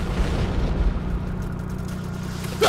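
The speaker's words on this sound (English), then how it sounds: "Drop that bomb, baby." Bomb explosion dropped from a torpedo bomber in a combat video game: a continuous low, rumbling boom that fills the whole stretch at steady loudness, with a sharper burst near the end.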